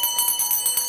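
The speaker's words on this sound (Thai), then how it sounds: "โอ้เสียงกระดิ่งแห่งความสุขนะคะเหมือนเสียงรถไอติมตอนเราเป็นเด็กๆเลย" A bell rings in quick, bright, repeated strikes at a steady rhythm with a metallic shimmer, resembling an ice cream truck bell.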